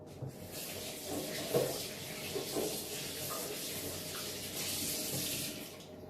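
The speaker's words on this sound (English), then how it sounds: "I'm just going to wash my hands again." A tap runs steadily at a sink while hands are washed during an Airbnb check-out clean, a continuous broadband splashing hiss lasting several seconds, with small knocks and bumps heard over the flow.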